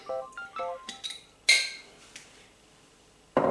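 Clinks of cookware and utensils as oil goes into a cooking pot for a creamy chicken and mushroom dish, a few sharp metallic taps followed by a brief louder splash-like burst and another near the end.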